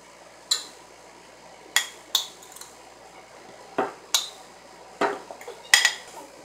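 Spoon clinks against a bowl as shallots and coconut go in, about eight short sharp metallic taps spaced irregularly, each with a quick ringing decay, close by with no talking.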